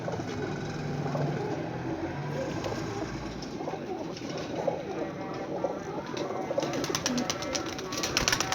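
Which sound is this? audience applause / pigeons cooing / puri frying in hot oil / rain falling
pigeons cooing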